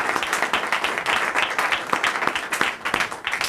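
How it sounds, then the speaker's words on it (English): An audience applauds a speaker after a book talk about Pakistan's military economy; brisk, close clapping from a modest crowd, with individual claps audible within the steady patter. "Join me in a round of applause for our speaker"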